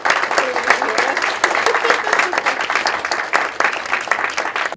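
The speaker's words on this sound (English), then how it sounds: "can we all give Darrah and Steve a round of applause" At a spectrum policy summit, an audience gives Darrah and Steve a round of applause: steady, moderately loud clapping from many hands continuing for several seconds.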